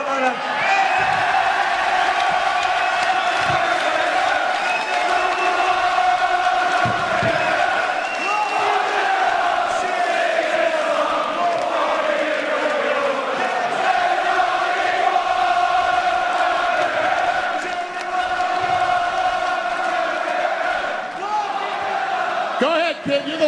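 Fans at a UFC press event shout and cheer continuously, a dense, loud crowd roar with rising chants and whoops, and voices mixed in throughout.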